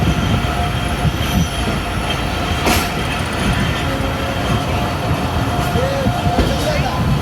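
The Sir Syed Express pulls out of a station in Pakistan, a loud, steady rumble of rolling railcars with faint wheel squeals, heard from on board.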